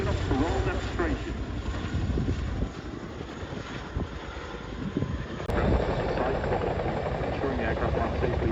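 A Chinook helicopter flying a roll demonstration at the 2024 RAF Cosford Airshow, its heavy, steady rotor roar filling the air at a distance, with an announcer's voice over it.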